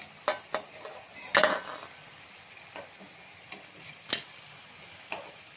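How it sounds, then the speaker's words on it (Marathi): Small pieces frying in oil over a low flame give a soft, quiet sizzle broken by scattered sharp ticks and one brief louder crackling burst. "आणि आता मंद आचेवरच आपण छान तांबूस रंगावर, म्हणजे आतमध्ये पर्यंत छान त्या तळल्या जातात"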